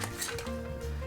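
A mint julep is transferred into a stainless steel julep cup, a short metallic clink and splash of liquid and ice, close and fairly quiet with no talking.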